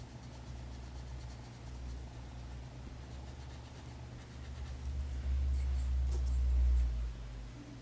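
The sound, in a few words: short sharp pencil strokes on paper, blending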